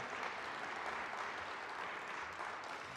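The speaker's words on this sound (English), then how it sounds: "Give yourselves a hand." Soft, even applause from a church congregation, a dense patter of many hands clapping at a distance with no voices over it.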